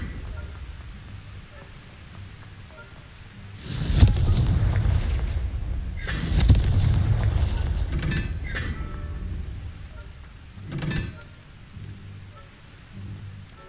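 Fiery blast spells from the Confringo curse in Hogwarts Legacy, two loud booming bursts close together followed by a smaller crackling burst and a lighter pop, each ringing out with rumbling tails over a quiet ambient bed.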